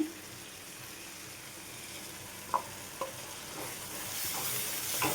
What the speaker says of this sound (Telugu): ఇది కూడా మంచిగా ఆయిల్ పైకి తేలేంత వరకు వేయించుకోవాలండి